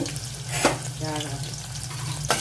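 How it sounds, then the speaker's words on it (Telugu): Sliced onions and green chillies fry in hot oil in a pan for a boti curry, giving a steady, even sizzling hiss with a faint clink or two and no voices. "రెండింటినీ బాగా వేపాలి దోరగా వచ్చేంత వరకు మనం వేపుకోవాలి"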